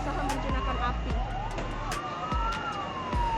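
Sirens from fire engines wail through a street at a boarding-house fire, rising and falling over a loud outdoor bustle of traffic and crowd noise, while a voice talks over it.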